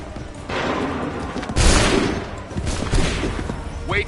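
Bursts of blaster gunfire in the Star Wars Outlaws video game, several sharp volleys with a heavier boom in the middle, close and loud against a busy background.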